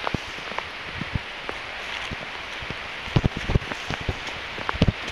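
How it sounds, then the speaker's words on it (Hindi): Steady rain falling in a forest, a dense hiss with scattered drops pattering on leaves and nearby surfaces, sounding close and continuous with no voices. "बारिश शुरू हो गया क्या बताए हाय हाय होय होय देखो ना बारिश शुरू हो गया"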